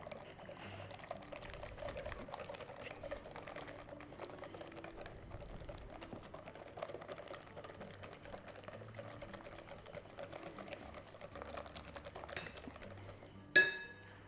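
Half a cup of olive oil pours steadily into zucchini bread batter, a soft continuous trickle lasting most of the time before a brief louder clatter near the end.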